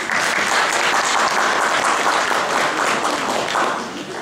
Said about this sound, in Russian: Давайте подарим аплодисменты.